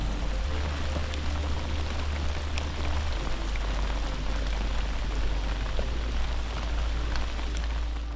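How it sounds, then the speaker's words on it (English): Rain falls steadily near the 7 Mile Bridge in the Florida Keys during a fishing trip, making a constant dense patter on surfaces with a low rumble underneath and no voices. "hopefully not get rained on too much"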